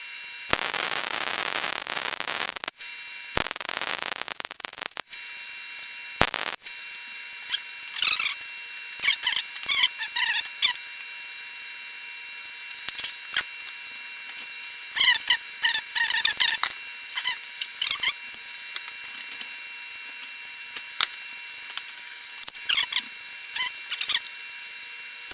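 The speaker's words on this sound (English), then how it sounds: "I'm going to go ahead and weld this plate together" MIG welding joins a steel plate for a power steering reservoir bracket: an initial sustained crackling buzz, then short stuttering bursts of sizzling spatter separated by silent gaps, close and fairly loud.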